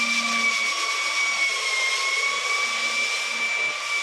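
A sanding machine works over wall putty with a steady, continuous whirring drone and a high tonal whine, loud and close throughout, with no talk.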